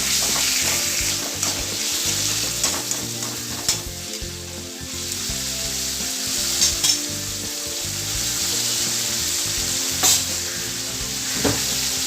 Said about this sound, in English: I'm using about half a pound or a quarter kilo of beef. Saute this.